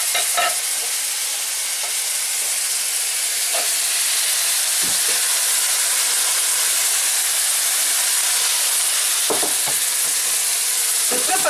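Thai-style fried rice sizzles loudly and continuously in a hot pan, with occasional scraping and tapping of a utensil as it is stirred.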